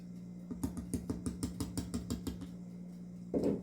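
A spatula scrapes carrot cake batter out of a bowl into a baking pan, a row of about a dozen evenly spaced close scraping strokes over a steady hum, ending in a brief rougher scrape.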